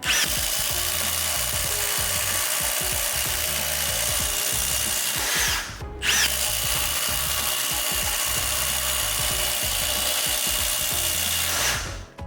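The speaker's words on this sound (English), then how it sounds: "let's wrap things up with our spade bit drilling test" A Milwaukee M18 Fuel 2953 or DeWalt DCF845 impact driver with a 5 amp hour battery bores holes with a spade bit: a loud, continuous whirring grind, a short pause, then another sustained run.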